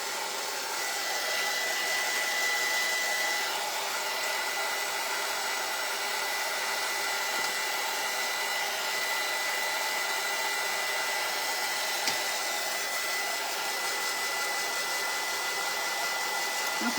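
A hair dryer drying paint on a wooden floral door hanger blows a steady, close, loud whooshing roar that stays constant with no pauses and no voices.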